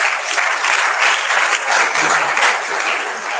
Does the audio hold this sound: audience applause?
yes